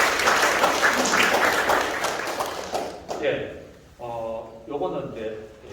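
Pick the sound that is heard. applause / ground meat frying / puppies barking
applause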